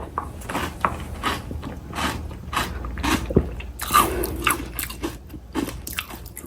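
Someone chewing a meal of collagen rice up close, with repeated moist crunching and biting sounds in an irregular rhythm, loud and without talk.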